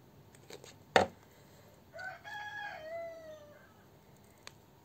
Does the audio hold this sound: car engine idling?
no